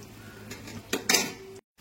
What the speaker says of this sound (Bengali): আলুগুলো সব তুলে নেব এক এক করে